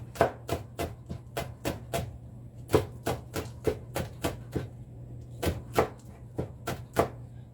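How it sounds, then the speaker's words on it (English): A knife chops green onions on a cutting board in quick, even strokes, about a dozen crisp taps in two runs separated by a short pause, close and clear over a low steady hum. "peeled your green onions, I just give them a chop"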